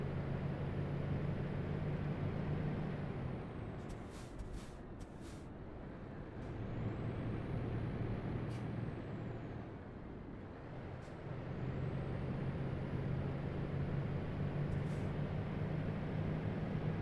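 A heavy truck hauling a loaded trailer in Euro Truck Simulator 2, with a low steady engine drone, a few sharp hisses and clicks, and faint rising whines, all fairly quiet and continuous.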